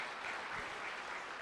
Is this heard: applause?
yes